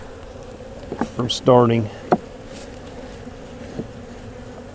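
Honeybees buzz around a hive entrance while someone speaks briefly nearby, a faint steady drone of insects beneath and after his short words.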